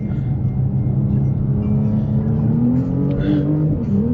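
An Audi RS5 engine drones steadily and loud, with smooth rising harmonic tones as it revs, continuous throughout with no talk over it.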